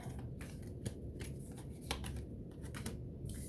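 Tarot cards are shuffled by hand in quick, close bursts of soft riffling flutters and sharp snaps, repeated several times at a quiet level with no talk.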